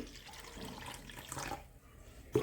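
Water poured from a small steel bowl into a pot for boiling rice, a soft continuous splashing pour under a faint hiss, ending with a brief louder clink near the end.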